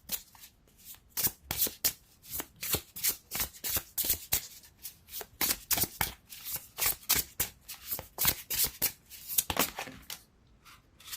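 Tarot cards are shuffled by hand in quick riffling bursts, a close, crisp run of rapid flicks and slaps repeating steadily throughout with no talk.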